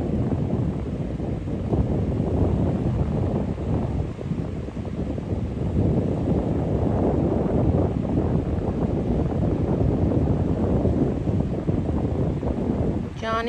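Wind gusting on a cold, breezy day while fishing for striped bass from a boat, a continuous rough buffeting rush across the microphone without let-up.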